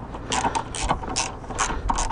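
Screws are tightened on a front shock absorber mount of a Volkswagen Touran, giving quiet, close mechanical ratcheting clicks in uneven short bursts with no speech.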